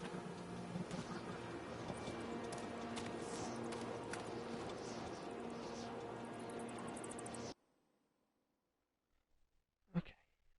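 Horse hooves clip-clop in a horror video game, a dense rhythmic clatter over game ambience for about seven seconds, then cutting off to near silence with a faint thump near the end.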